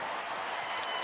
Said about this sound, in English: What a great crowd here tonight.